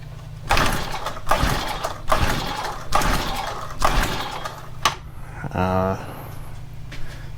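A Honda FG110 tiller engine gets a couple of pulls on its recoil starter, each a brief ratcheting rasp, with people talking close by between and over the pulls.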